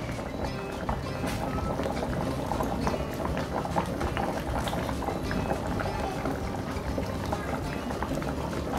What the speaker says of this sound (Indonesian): soalnya udah mendidih